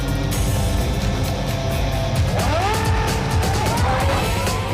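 A Red Bull Formula 1 car screams through a simulated lap of the Yeongam circuit in Korea, its engine loud and continuous, with rising whines from gear shifts and acceleration over a steady roar.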